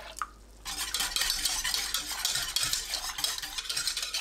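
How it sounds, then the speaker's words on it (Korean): Flour and water stirred in a pot for Korean water kimchi, a utensil scraping and swishing in a steady rhythm of close strokes after a brief quiet start. "냄비에 밀가루 한 큰술, 물 500ml 넣고 섞어주세요."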